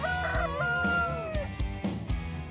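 A rooster crows loudly and close by, one long drawn-out call with a falling pitch, followed by a few clucks and thumps, from a rooster roosting in an old 1964 Ford F350 flatbed truck.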